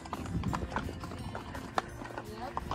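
Horse hooves clip-clop at a steady walking rhythm on an Arizona desert trail near Apache Junction, close and distinct, with voices talking over them and an occasional sharp hoof strike.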